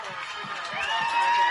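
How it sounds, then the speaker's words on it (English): A crowd at a high school football game between Fairview and Priceville makes a steady wash of cheering and shouting in the stands, loud and continuous, swelling slightly toward the end, with faint low thumps underneath. "And the crowd's starting to make some noise"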